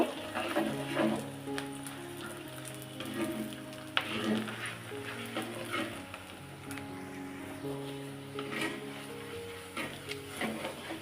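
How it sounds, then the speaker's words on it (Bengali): Onions frying in a pan of oil with cardamom, cloves and peppercorns, a steady close sizzle and crackle with occasional stirring scrapes, no talk over it. "পেঁয়াজটা একদম লাল লাল করে ভেজে নিব"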